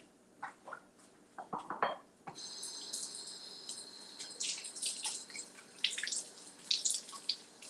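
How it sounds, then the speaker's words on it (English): Running tap water pours over an apple being washed at a sink, a steady close stream with brief splashy bursts, following a few soft knocks and handling sounds at the start; nobody speaks. "So let me wash my apple."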